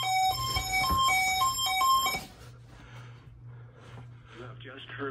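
A NOAA weather radio warning alarm tone test on station WXK85 opens with loud, piercing beeping tones for about two seconds. The alarm then cuts off and a spoken broadcast voice follows.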